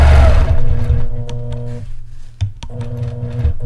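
Sewing machine stitching a 1/4 inch quilting ruler line on a triangle design, a loud steady motor drone that pauses briefly and resumes, with a few small clicks, no talking.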